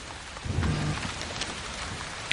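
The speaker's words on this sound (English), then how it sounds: "it's been raining for 3 days now" Steady heavy rain pouring down in the wild during a storm, a dense continuous hiss with a low rumble of thunder near the start, no voices.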